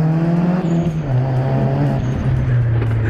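A Honda Prelude coupe accelerates hard up close, engine note climbing, then briefly stumbling and coughing before the revs keep rising, loud and alone.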